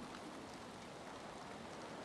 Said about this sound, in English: And it's raining, and it's miserable